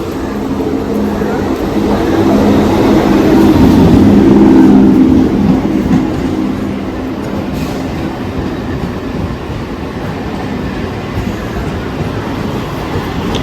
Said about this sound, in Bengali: আমাদের ট্রেন ঢুকছে 3 নম্বর প্ল্যাটফর্মে।